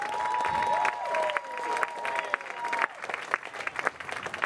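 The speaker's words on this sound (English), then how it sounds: "how about another nice round of applause for our two contestants?" Spectators at a state high school arena finals applaud two contestants, dense clapping from a large crowd in a reverberant hall that thins into scattered claps as it fades.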